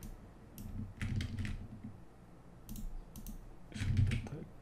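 Mouse buttons clicking in quick pairs at a computer while selecting text, a few separate bursts of light clicks over a low background hum, close and fairly faint.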